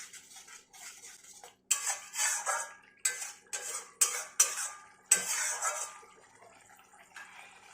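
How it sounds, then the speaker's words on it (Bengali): Metal spoon stirring a spiced yogurt mixture in a pan for Bengali doi katla fish curry, with repeated scraping and clinking strokes in irregular bursts, close and fairly loud, and no talking. "মিডিয়াম আছে 3-4 মিনিট ফুটিয়ে ভালো করে মিশিয়ে নিতে হবে।"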